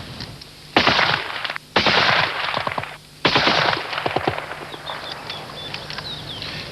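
An EM2 rifle fires three loud, close shots spaced about a second apart, each a sharp broadband crack with a ringing tail, followed by quieter clattering mechanical sounds.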